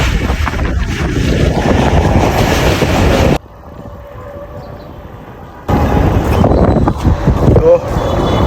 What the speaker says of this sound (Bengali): এদিকে ট্রেন আইসা পড়ছে, ট্রেন জার্নি শুরু হবে।